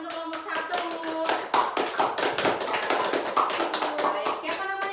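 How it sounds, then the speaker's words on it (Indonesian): A classroom of seventh-grade pupils claps for a student group, the hand claps sharp and uneven, mixed with children's chatter and a teacher speaking over the clapping. "Beri tepuk tangan untuk kelompok 1."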